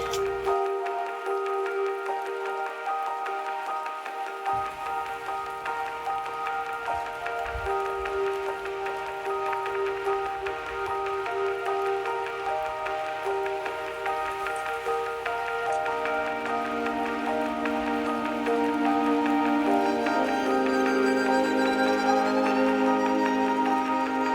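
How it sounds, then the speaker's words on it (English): Rain falls at night during storms while camping in Valley of Fire. It makes a steady, continuous patter for the whole stretch and grows slightly louder toward the end, with no voices. "However, it is now raining again."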